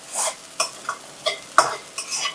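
Sabudana stirred in a pan with mustard seeds and cumin, cooked for a Shivaratri fast: a run of light scraping stirs with faint sizzling, several distinct strokes close by, with no talk.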